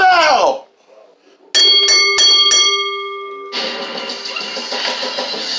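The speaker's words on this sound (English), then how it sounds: "Ring the bell!" A ring bell is struck several times in quick succession to end a televised table match in professional wrestling, the bright metallic clangs ringing out loudly after the shouting of an excited commentator, followed by a roaring arena crowd.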